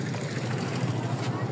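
A passing bangka motorboat's engine gives off a steady low drone that holds even and unbroken through the short stretch.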